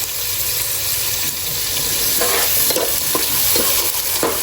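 Garlic, ginger and green chilies stir-fry in hot oil for beef pulao, a dense continuous sizzle that swells slightly as stirring scrapes and taps against the pot come in, with no voices.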